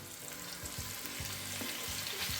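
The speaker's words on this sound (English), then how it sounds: "In the pot I've got a tablespoon of beef fat. I'm now going to throw in half of the beef." Beef browning in a tablespoon of beef fat in a stew pot, giving a steady, close sizzle and crackle with soft stirring scrapes and a few low knocks throughout.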